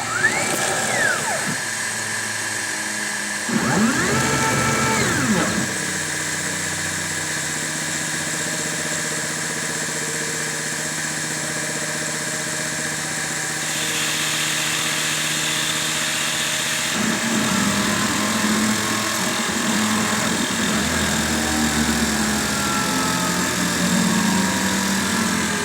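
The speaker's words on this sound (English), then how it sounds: "this thing is happily throwing chips everywhere and making its funky stepper motor music" A CNC milling machine cuts HDPE, its stepper motors whining in shifting tonal sweeps over a steady mechanical drone, with chirping tones rising and falling through the run and no talking.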